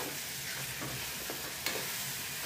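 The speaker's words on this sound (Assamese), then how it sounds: "মছলাখিনি ৰেডি কৰি পিঁয়াজৰ লগত একেলগে এয়া ভাজি দিওঁ" Spice paste with onions fries in a pan, giving a steady, close sizzle with soft scraping stirs and a small clack partway through.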